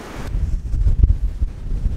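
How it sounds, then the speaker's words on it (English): Strong gusting wind rumbles and buffets the microphone outdoors on a mountain, loud and continuous with no one speaking. "it's windy out here. Man, some wind."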